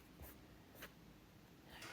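Pen or marker scratching out a math expression on a board, a few brief strokes in quick bursts, close and faint against a quiet room.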